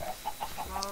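Chickens in the Minecraft video game cluck at a chicken farm, several short clucks spaced at an even rhythm, moderately loud, with no talking.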